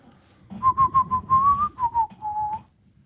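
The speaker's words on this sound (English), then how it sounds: "Sorry, I like the whistle." A melodic human whistle, a steady, tuneful run of notes lasting a couple of seconds, loud and close, with no talking over it.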